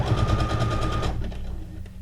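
A sewing machine stitches a fabric strip made from scraps with a fast, even mechanical chatter, close and fairly loud, running for about a second before it stops, leaving a low background hum.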